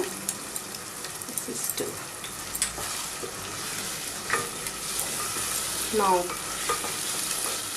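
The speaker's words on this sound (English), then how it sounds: "Now we are going to add ginger and garlic, 2 teaspoons of it." Ginger and garlic added to browned onions for mutton korma, frying in a pan with a steady hiss while a spoon stirs through it in scattered scrapes; a voice speaks briefly over the cooking.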